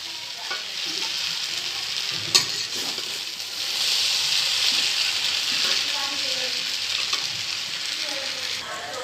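Noodles with cauliflower, beans and carrot are stir-fried in a hot pan, giving a steady bright sizzle broken by scraping stirs and occasional clanks, close and continuous.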